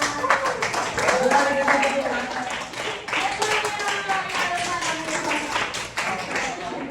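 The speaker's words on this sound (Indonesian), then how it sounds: "Tepuk tangan buat Kansa" A high school class claps for a student, quick scattered hand claps running for several seconds at moderate level while people talk over them.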